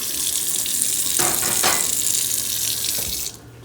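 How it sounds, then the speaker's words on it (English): Water streams steadily into a pot of peppers for a few seconds, a continuous splashing pour that cuts off abruptly near the end. "A little bit of water just to cover the peppers."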